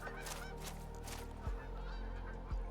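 Geese honk repeatedly as they fly over in a waterfowl hunting video game, a string of nasal calls at moderate distance above a low steady background.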